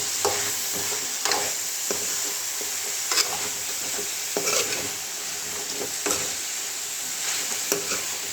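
Chicken with moringa pods frying in a pan, stirred under a constant loud sizzle with intermittent scraping clicks from the spoon.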